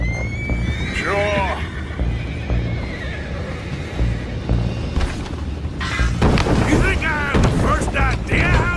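Horses whinny loudly several times in the video game Red Dead Redemption 2, with hooves clopping and a low rumbling background; voices can be heard partway through.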